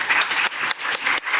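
An audience at a National Assembly policy forum on nutrition, care and healthy lifespan applauds after a panel discussion, a dense, steady patter of many hands clapping nearby with small dips in intensity.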